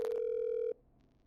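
A single steady telephone ring tone sounds in the video game Killer Frequency, loud and clear for under a second before cutting off abruptly into quiet, with no talking.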